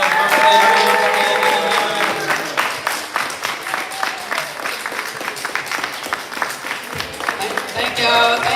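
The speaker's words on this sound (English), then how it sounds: "Let's clap it up one more time for the birthday." An audience at a live book launch interview claps and cheers for a birthday, loud at first and then fading into scattered clapping while voices talk over it.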